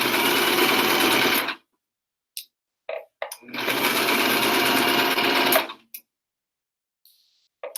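A sewing machine stitches the seams of a bag made from an old t-shirt, running in two long steady bursts of fast, even whirring, each followed by short clicks and handling sounds between runs.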